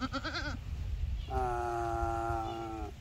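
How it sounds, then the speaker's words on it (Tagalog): Two goats, a female and a male, bleat on a small farm: one short wavering bleat, then a longer, steadier call after a pause, both close over low rumbling background noise. "Meron na tayong alagang kambing."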